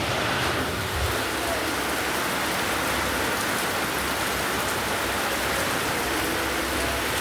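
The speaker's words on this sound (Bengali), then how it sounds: "দেখতে পাইছো কি বৃষ্টি হয়েছে?" Heavy rain pours down outside a house in a constant, dense, even hiss that stays loud and unbroken from start to finish.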